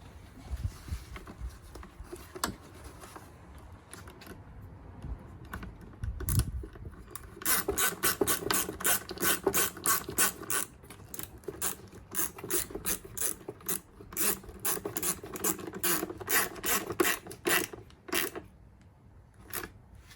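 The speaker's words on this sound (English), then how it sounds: "Tighten that hose clamp up." Ratcheting on an Audi S5/S4 B9 as a hose clamp on the DIY intake is tightened: rapid, fairly close clicking bursts, repeated through most of the stretch with brief pauses between runs.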